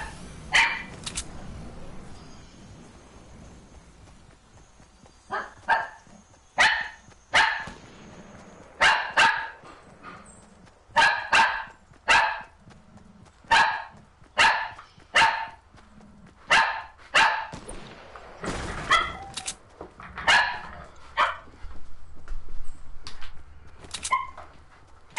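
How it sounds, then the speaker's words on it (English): A dog barks repeatedly and persistently at close range, single and doubled barks following one another in an irregular rhythm over a steady low background. "I'm sorry about my dog barking,"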